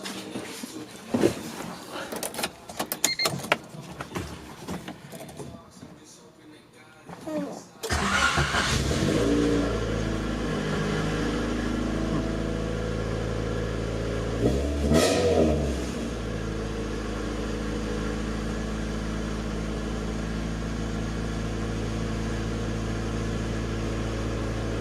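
A 1991 Honda CRX Si with a loud exhaust setup and a knock sensor fault, cranking and starting after a quieter stretch of handling noises, then idling steadily and loudly with one sharp rev partway through.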